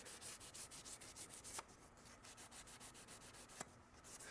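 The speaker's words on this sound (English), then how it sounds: "So I'm just going to give it a light" Fine 1200 grit sandpaper rubs back and forth on an old survival knife blade in a quick, steady rhythm, soft and close, with no voices.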